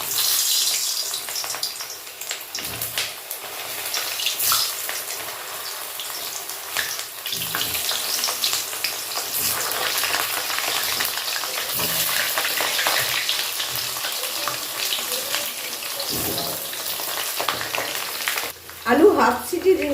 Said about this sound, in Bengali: তেল গরম হয়ে গেছে, এবার আস্তে আস্তে করে আলুগুলো ছেড়ে দেবো।